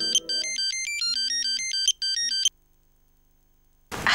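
A mobile phone ringtone plays a loud, repeating electronic melody close up for about two and a half seconds, then cuts off into silence before a burst of noise at the end.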